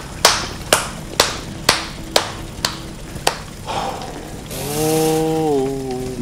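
Seven sharp hand claps in an even rhythm, then a chainsaw from the Resident Evil 7 video game snarls in with a buzzing, wavering engine drone that rises and dips for a couple of seconds.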